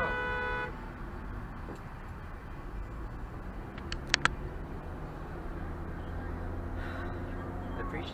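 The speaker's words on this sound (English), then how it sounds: "get out of my way when I honked" Two quick, sharp car horn honks sound in the middle over steady road and engine rumble inside a moving vehicle in northern New Jersey traffic.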